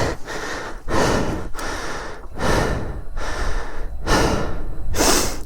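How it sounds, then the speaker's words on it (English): A person breathes heavily from exertion: about six loud, close gasping breaths in a steady rhythm, with no talking. "Sorry about the heavy breathing."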